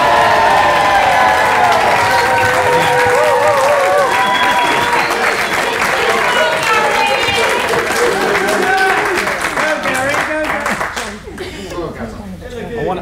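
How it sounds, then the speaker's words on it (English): Wedding guests burst into loud cheering and applause for the groom, a crowd of whooping voices and clapping that holds strong for about ten seconds before dying away into scattered claps and chatter. "this is your chance for a really big cheer to give the groom some... courage"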